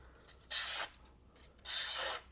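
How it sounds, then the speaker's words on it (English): An MBK knife blade slicing through material in two separate strokes, each a bright, dry rasping swipe of roughly a third of a second, close and alone, with a quiet pause between them. "Let's cut with our MBK before we get too far behind."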